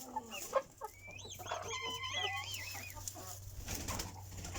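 Chickens in a straw-bedded henhouse, perched on roosts, let out soft clucks and short warbling calls close by over a steady low hum, with no voices.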